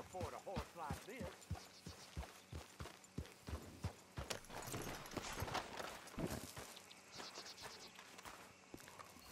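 A horse walks at an even pace in Red Dead Redemption 2, with a clear, rhythmic clip-clop of hooves over soft insect chirping.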